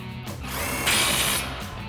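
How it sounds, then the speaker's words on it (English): Ratchet with an 18mm socket tightening the sway bar link nut on a Ford F-150 suspension, a quick burst of rapid clicking that swells and fades over two seconds. "Tighten that back down with our 18mm socket."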